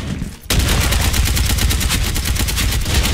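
A Galil White rifle in Special Force 2 opens up after a brief quiet moment, then fires a loud, steady stream of rapid automatic shots close by.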